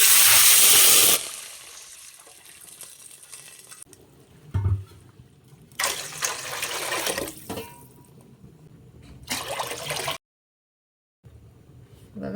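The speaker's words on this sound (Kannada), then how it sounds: "ಇದಕ್ಕೆ ಒಂದು ಸ್ವಲ್ಪ ನೀರು ಹಾಕ್ತಾ ಇದ್ದೀನಿ." Water splashes and streams into a pan of roasted chicken dum biryani masala in a home kitchen, several separate pours and sloshes with short pauses between them, close and fairly loud.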